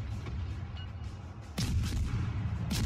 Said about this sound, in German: jetzt schießt die Algerie wieder auf mich